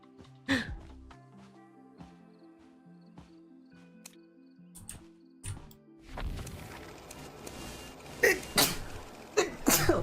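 A single short sneeze bursts out near the start over quiet, looping game music from a live session of a horror multiplayer game, followed by scattered clicks and rustling.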